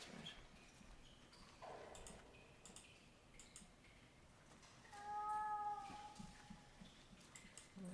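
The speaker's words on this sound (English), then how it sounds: "cat seems to be behind the wall" In The Last Door video game, a cat behind a wall gives a single faint, drawn-out meow amid quiet ambient ticking and soft background noise.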